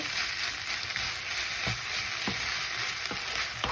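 Noodles sizzle steadily in a hot frying pan while being stirred and mixed, with regular scraping strokes of the utensil cutting through the constant close frying hiss.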